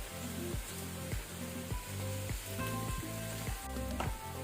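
Banana flower palya with a spoonful of jaggery being stirred in a hot pan: steady sizzling and frying with rhythmic scraping strokes of a spatula, repeating about every half second, close and moderately quiet.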